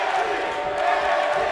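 Dense crowd chanting and cheering from a virtual arena audience at a women's main event in a WWE 2K wrestling video game, a steady loud roar filling the whole moment with no pauses.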